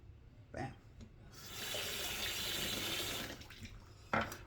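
Water runs from a tap over a Kopperkant razor, starting briefly, then a steady splashing stream for about two seconds, with small clicks and taps before and after.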